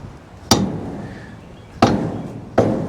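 A large piece of firewood is struck on a homemade kindling splitter, giving three sharp, loud impacts: a heavy crack and metallic thud, then a pause, then two more close hits with brief ringing tails.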